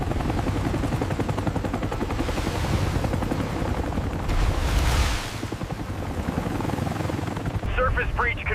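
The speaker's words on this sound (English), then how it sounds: "Helicopter-assisted lifting of the Ghost Arsenal is now underway." A helicopter hovers over the ocean while lifting a weapons cache from the water, its rotor and engine a loud, steady, unbroken roar that fills the whole clip.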